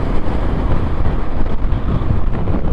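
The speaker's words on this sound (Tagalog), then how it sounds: "Lakas ng hangin." Strong wind buffets the microphone during a motorcycle ride on EDSA, a loud, continuous low roar with gusty surges and no clear voices.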